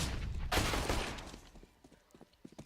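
Gunfire in Counter-Strike on the Cache map during a professional match: a loud, sharp burst of shots, then scattered fainter clicks and pops trailing off.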